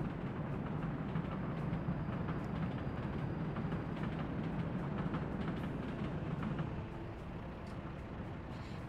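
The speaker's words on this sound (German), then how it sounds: "Das ist die S-Bahn-Linie." An S-Bahn commuter train in the city-building game Workers & Resources rolls along as a steady, dense rumble with light clicking, constant and fairly close throughout, no voices.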